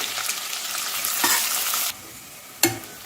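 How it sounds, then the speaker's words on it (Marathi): Thinly sliced onions fry in a pan with a dense, steady sizzle that suddenly drops to a quieter hiss, followed by a single sharp clank of a utensil against the pan. "आपला कांदा छान फ्राय झाला आहे"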